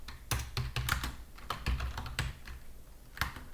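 Keys tapped on a computer keyboard in irregular bursts of close, crisp clicks, some strokes louder than others, with no voices over them.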